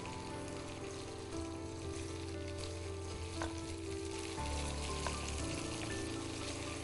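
Small pieces of paneer sizzle and fry in hot oil for a green paneer dish, a steady, close crackling hiss that shifts slightly midway as the pieces settle.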